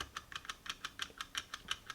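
Steady, evenly spaced light metallic clicks, about six per second, sound close by as a synchro ring on a 2014 Ford Focus ST second gear is worked into place, with no talk.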